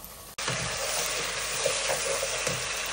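Onions frying in hot mustard oil, a steady close sizzle that starts abruptly and carries on with small crackles and faint stirring clinks.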